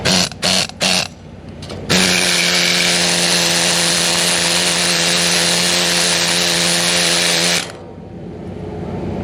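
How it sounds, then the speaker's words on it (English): A needle scaler descaling welds on a DIY pool repair, a harsh continuous rattling buzz running loud for several seconds after a few short bursts, then stopping abruptly. "So that's before descaling with the old needler here"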